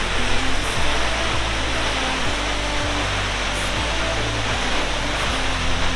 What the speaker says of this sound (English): Quite an impressive waterfall,